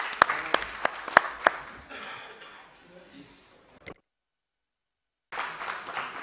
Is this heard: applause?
yes